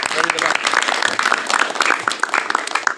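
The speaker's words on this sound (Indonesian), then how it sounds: "Aplaus dulu, Pak pembina kita." A school crowd applauds the debate coach at a senior high school gathering, loud, dense, continuous clapping from many hands filling the room.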